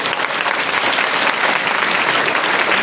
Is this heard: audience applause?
yes